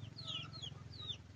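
Many chickens cluck and squawk around a bamboo nipa hut, several birds calling in short overlapping bursts over a low rumbling background, faint and distant.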